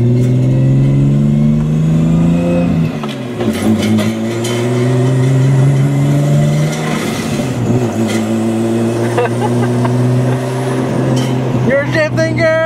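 An R32 Skyline with a swapped straight-cut manual gearbox whines while driving, rising and falling tones tracking engine revs through gear changes, close and steady, with voices talking over it.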